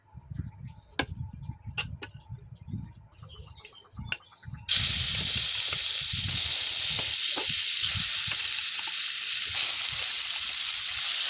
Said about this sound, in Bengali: তেলের মধ্যে আস্তে আস্তে মাছগুলো দিয়ে দেব।